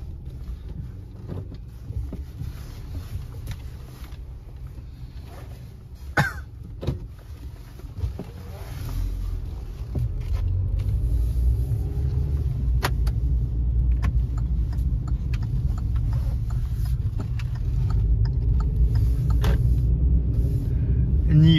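A car driving through the streets of Kandalaksha, Russia, its low engine and road rumble steady throughout and growing louder and fuller after the first few seconds, with occasional faint clicks and knocks inside the cabin.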